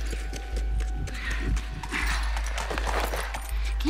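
Horse hooves clip-clop in the video game The Last of Us, a steady run of close, regular hoof strikes over a low rumbling game soundscape, with no talking.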